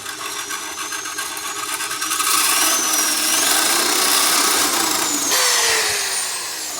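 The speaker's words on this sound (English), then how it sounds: "So we're just cleaning out the surface so it leaves a nice clean surface to weld onto." Metal surface being cleaned before welding with a power tool, a loud continuous abrasive whine and grinding rasp that swells in the middle and shifts pitch before easing off, close by.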